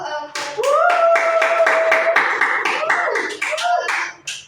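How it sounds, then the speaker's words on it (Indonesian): A classroom group claps in a loud burst of applause lasting several seconds, with voices calling out over the clapping before it fades. "beri aplaus dulu"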